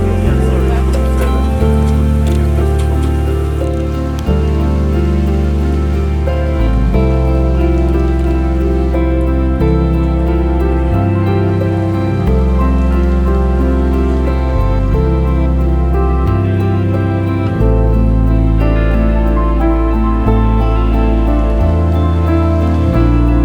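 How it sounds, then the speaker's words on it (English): Rain falls at a cenote near Valladolid as a continuous wash of raindrops on surfaces, heard together with loud, sustained background music. "Just got to the cenote here, and it is indeed still raining."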